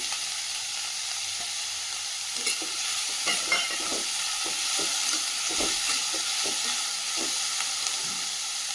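Chopped onion and tomato sauté in a hot pan for a dried anchovy fry, with a steady sizzle and occasional stirring scrapes up close and no talking.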